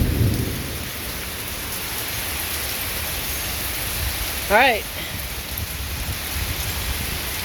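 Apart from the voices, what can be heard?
rain and thunderstorm outdoors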